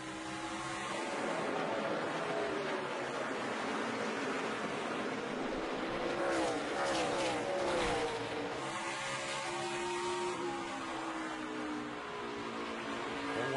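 NASCAR stock cars race hard for position on track, a steady loud roar of several engines with a surging pass in the middle, sustained throughout without talk.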